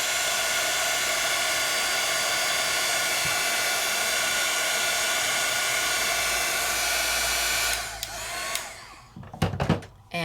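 Heat tool blasting shrink plastic on high heat, a steady loud hissing blower rush that runs continuously, then cuts off near the end, followed by a few handling clicks.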